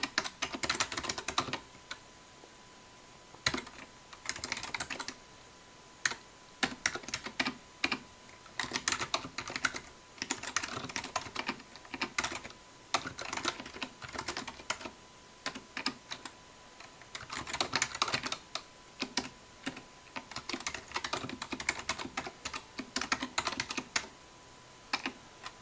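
Continuous typing on a computer keyboard, with rapid irregular key clicks in bursts and brief pauses, close and fairly quiet, no voices, while a C program is written on a Raspberry Pi running Raspbian.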